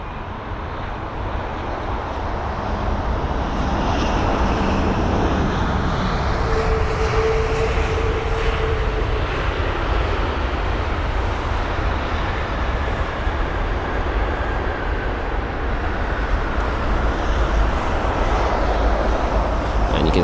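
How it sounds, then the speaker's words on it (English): An American Airlines Boeing 777-200ER airliner at Heathrow, inbound from Phoenix, gives a steady, loud broadband engine roar that holds throughout with no breaks, heard from the airport surroundings. "this is A194, the American Airlines 777-200ER from Phoenix, a 9 hour and 25-minute long journey"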